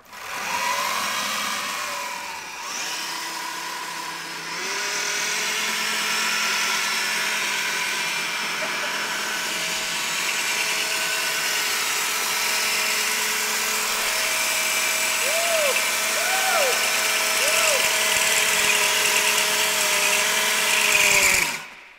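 A stunt bike engine runs steadily at close range, a continuous buzzing drone that keeps a near-constant pitch with slight wavering, with no talk over it.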